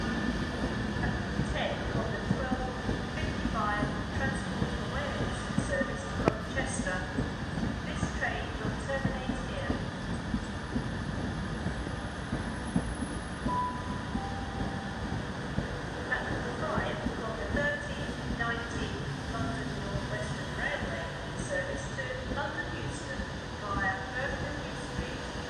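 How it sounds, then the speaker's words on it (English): A Pendolino train bound for Edinburgh Waverley pulls into Crewe station, its steady rolling rumble and faint wheel clatter running throughout while people talk nearby. "There's Pendolino coming into Crewe"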